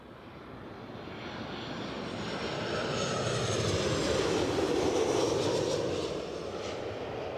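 Jet airliner roaring through reverse thrust on landing at Newcastle Airport, heard from behind a hedge: a steady, broad rumble swelling over several seconds, then easing slightly as the thrust dies away.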